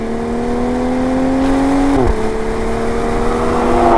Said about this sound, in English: Drop it to second gear, put my foot down, there's the torque.